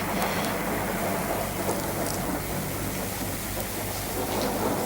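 Steady heavy rain pours throughout with a low rumble of thunder beneath it, a dense, continuous wash that stays loud and even from start to finish.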